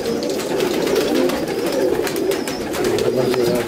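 Pigeons of fancy breeds such as Teddy, Rampuri, Sialkoti and Golden cooing close by, a continuous overlapping low warble that carries on without pause.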